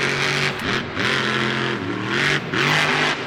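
Grave Digger monster truck engine revving at a Monster Jam stadium event in St. Louis, a loud, rough roar rising and falling in repeated surges as the throttle is worked.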